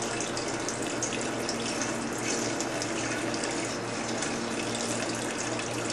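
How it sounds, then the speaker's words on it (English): Home-distilled alcohol is poured into an equal amount of gasoline, making a steady, continuous liquid pouring and splashing sound, close and moderately loud, with no talking. "to that amount of gasoline, we mixed in an equal amount of the alcohol that we had distilled"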